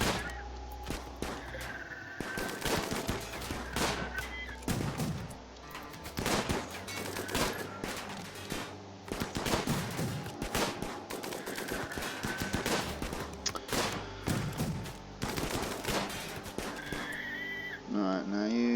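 Rapid video game gunfire from a RimWorld shooting-practice battle crackles almost continuously in dense volleys and bursts, with game effects layered underneath.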